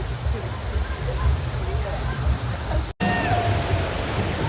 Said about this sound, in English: Oh, there is a waterfall.